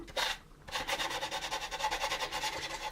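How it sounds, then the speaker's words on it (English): Sanding across scribed grid lines on a plastic part from an AMT 1983 U.S.S. Enterprise model kit, a close, steady back-and-forth rasping rub after a brief opening stroke and a short pause. "You don't want to cross the lines or push too hard and sand too deep and chop these grid lines"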